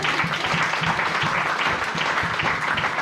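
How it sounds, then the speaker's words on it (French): A church congregation claps together to acclaim the Lord, dense steady applause filling the room, with a few voices mixed in underneath. "Acclamons le Seigneur."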